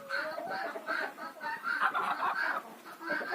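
Several hens cluck and murmur close by in a continuous, overlapping chatter, in a yard shared with goats.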